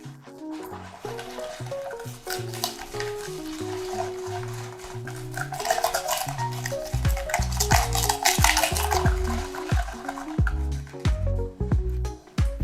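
Wet stirring and squishing of a thick custard filling with milk, with scraping of a utensil against a bowl, growing busier and louder toward the end.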